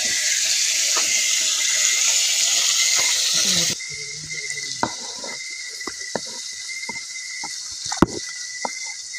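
Tap water runs in a steady, loud hiss while dishes are washed, then cuts to a quieter wash with scattered clinks and knocks of dishes in the sink.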